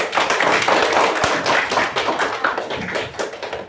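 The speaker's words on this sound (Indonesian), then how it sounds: "Tepuk tangan." Classroom of young primary-school children clapping together in a dense, steady patter of claps for a few seconds, with no talk over it.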